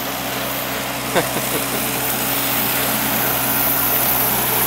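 Lawn mowers of a roadside mowing crew drone steadily near a highway junction in El Dorado, Arkansas, a continuous engine hum with a brief bump early on and no break.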